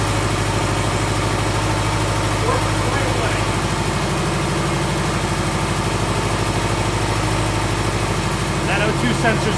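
A Subaru Outback or Legacy GT engine idles steadily with a newly fitted oxygen sensor after running rough, a constant low mechanical drone with a faint rhythmic pulse and a brief clatter near the end.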